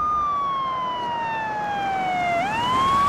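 An ambulance siren wails steadily in a single rising-and-falling sweep, loud and close, with a faint road hum beneath and no voices.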